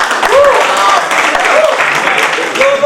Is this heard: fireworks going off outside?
no